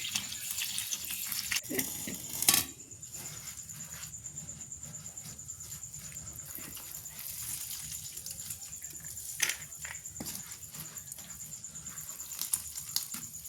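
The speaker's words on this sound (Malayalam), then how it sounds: "അത് വെള്ളമൊഴിച്ച് നന്നായി കഴുകിയെടുക്കാം" Leaves are rinsed under running water in a kitchen: a soft, continuous splash and trickle with a few louder splashes and clinks, and crickets chirp faintly in the background.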